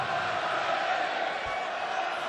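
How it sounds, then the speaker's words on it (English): A darts crowd at the 2017 Players Championship Finals roars steadily behind a player, a dense, even wash of cheering and chatter with no sharp peaks, holding at the same level throughout. "the crowd are getting behind him"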